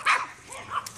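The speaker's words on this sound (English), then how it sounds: "I have neighbor dogs that are really annoying and bark" A neighbor's dog gives a couple of short barks, a sharper one at the start and a softer one near the end, fairly faint and with no talk over them.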